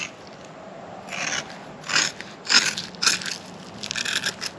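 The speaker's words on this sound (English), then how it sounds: "If it's a little long, you can always take your scissors." Scissors cutting through overhanging fiberglass cloth, with several crisp, crunchy snips close by, spaced about half a second to a second apart and quickening near the end.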